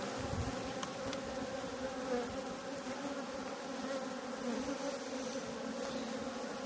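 Honey bees hum and drone in a continuous, dense buzz from an opened beehive in Adilcevaz, Bitlis, in eastern Anatolia, close and steady throughout with no voices.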